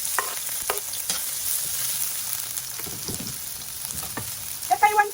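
Chopped onion sizzles in hot cooking oil, a loud, steady crackle with a few soft stirring scrapes and a couple of light utensil clinks near the end.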